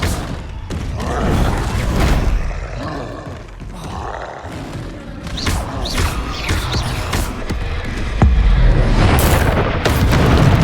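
A Bombarda explosion spell in the video game Hogwarts Legacy sets off heavy booms and rumbling roars, several blasts in quick succession over continuous game sound, with a loud hit near the end.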